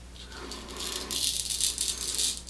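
Safety razor blade scraping on an against-the-grain shaving pass, a close, raspy rattling rasp that grows louder in the second half, with no talking.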